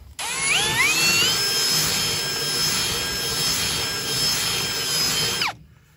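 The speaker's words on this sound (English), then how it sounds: "So just take this chamfer tool and my drill bit." A power drill fitted with a chamfer bit whines up to speed and runs steadily for several seconds with a high, grinding tone, chamfering a BMW M50 engine part, then winds down and stops.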